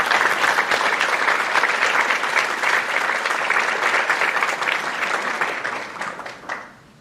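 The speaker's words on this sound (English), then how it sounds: "Can we please have a quick round of applause for all of them?" An audience at a school academic awards assembly applauds the AV crew and staff, a dense, steady wash of many hands clapping that holds strong for about six seconds, then quickly fades out.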